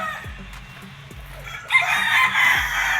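Game farm chickens, including young pullets and crowing roosters, call and cluck close by, a loud crow breaking out partway through over steady background clucking.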